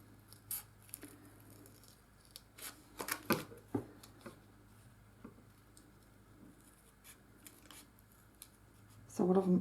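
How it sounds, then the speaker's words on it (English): Scissors snip a design out of glitter paper for a lace butterfly Christmas ornament, a series of close, crisp cuts spaced irregularly, with a louder rustle of handled paper at the end and no talking. "I'm just going to cut that design out"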